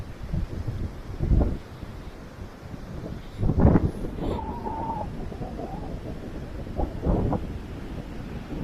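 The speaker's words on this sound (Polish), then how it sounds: "Wiatr jest dokuczliwy." Steady gusty wind buffets the microphone on the Baltic Sea shore of the Vistula Spit, with low rumbling bursts rising and falling and a faint tonal whine in the background.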